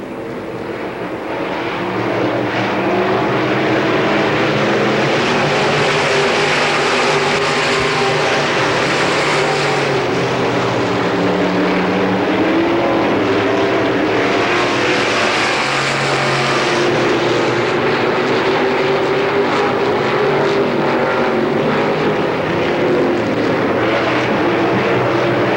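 Race cars running a heat race at the Pennsylvania Motor Speedway near Pittsburgh in 1993, a continuous loud engine roar from the pack that rises and falls as cars circle the track, with no talk.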